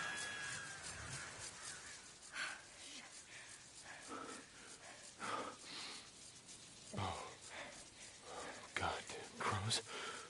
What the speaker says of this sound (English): Goddamn crows. They're infected.